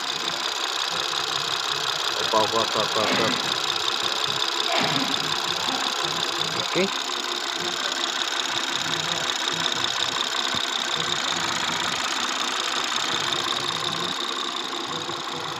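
A BMW 740i idling, a steady, slightly ticking engine hum that runs evenly throughout with a few brief clicks, while a voice says a couple of short words over it.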